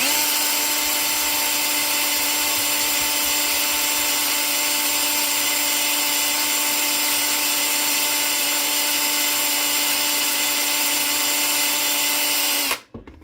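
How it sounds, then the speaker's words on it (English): A loud electric drill buffing a piece runs at a steady high whine for a long stretch, then cuts off abruptly at the very end. "I move the drill across it."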